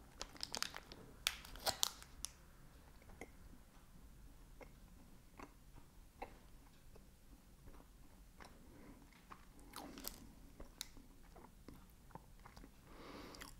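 A low-sugar snack being unwrapped and bitten: crinkly wrapper rustles at the start, then soft, scattered crunches and chewing ticks up close, faint and irregular, with no speech.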